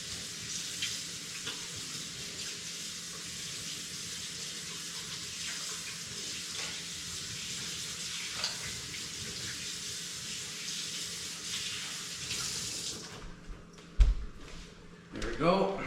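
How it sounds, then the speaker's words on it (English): A kitchen tap runs while hands are rinsed during sourdough focaccia making, a steady close hiss of water for about thirteen seconds before it shuts off, followed by a few sharp clatters and knocks. "Let me rinse off my hands."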